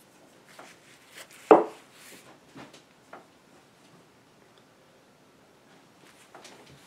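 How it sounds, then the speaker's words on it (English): A Bark River Gameskeeper knife carving wood: one sharp, close chop stands out, followed by a few faint scrapes and taps in an otherwise quiet space. "it cuts and carves through wood pretty effortlessly and very easily"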